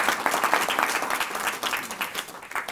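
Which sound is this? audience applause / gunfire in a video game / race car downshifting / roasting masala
audience applause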